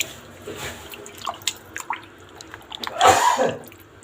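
A single short sneeze bursts out in a home kitchen near the end, preceded by faint clinks and drips of cooking.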